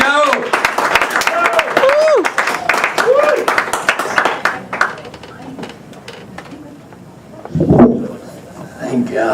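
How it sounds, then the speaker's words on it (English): Comedy club audience applause for comedian Joe Barton, a close burst of dense clapping with whoops and voices that fades after a few seconds, followed by talk. "How about a big round of applause for Joe Barton?"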